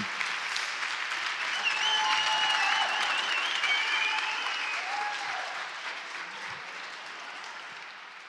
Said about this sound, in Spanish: un aplauso enormérrimo para Adrián García